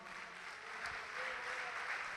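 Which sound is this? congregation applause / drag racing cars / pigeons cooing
congregation applause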